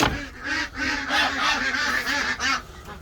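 Ducks let out of their coop quack and honk loudly and continuously up close, a dense overlapping chorus of harsh calls.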